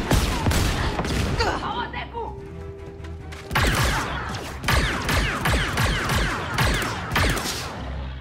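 Gunfire in the Star Wars Outlaws video game: rapid bursts of blaster shots and impacts crackle in dense, loud volleys, broken by a short lull, with a player talking over parts of the fighting.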